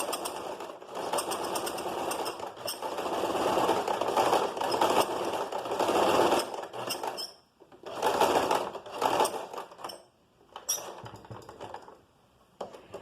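A sewing machine stitches along the edge of a belt loop in steady running bursts, pausing briefly a few times before resuming, close and fairly loud.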